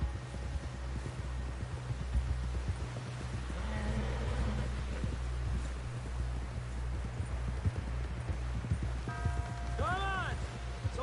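Horse hooves galloping in the game Red Dead Redemption 2, a steady rapid clip-clop over a low ambient rumble, with a brief whinny-like tonal call near the end and no spoken voices.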